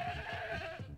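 A goat in the Payday 2 goat mod video game gives a single drawn-out, wavering bleat lasting about a second. It is close and fairly loud and has nothing else under it.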